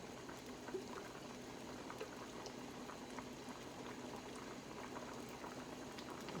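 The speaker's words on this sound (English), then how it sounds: "Let that boil down simmer for about 5 minutes" Tomato sauce with spices bubbling on the stove, a steady dense simmer of popping bubbles and liquid crackle that holds evenly throughout at a low, close level.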